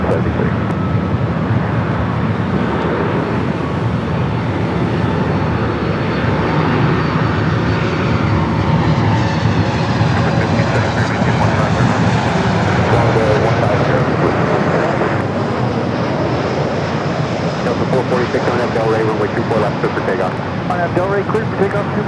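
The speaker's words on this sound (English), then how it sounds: "All right, we got that Alaska flight coming in next, followed by that Delta Heavy A350." Airliner approaching to land on runway 24 at LAX, a steady broadband jet engine roar that swells gradually and holds loud throughout, with wind noise over the microphone and voices talking underneath.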